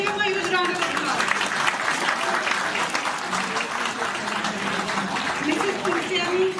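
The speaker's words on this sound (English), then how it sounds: "Please give him a huge round of applause." Dense, sustained audience applause fills a hall at an academy's anniversary literary awards ceremony, with voices and a few cheers mixed in beneath the continuous clapping.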